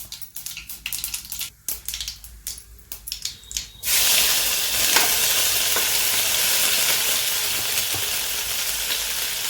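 Crushed garlic, ginger and green chili go into hot oil already holding mustard and cumin seeds, setting off a loud, steady sizzle that fills the rest of the clip after a few seconds of stirring and clinking.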